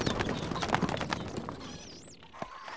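Horses gallop in the medieval strategy game Stronghold Crusader, with a rapid, dense patter of hoofbeats that is loud at first and then thins out, and a faint game effect follows.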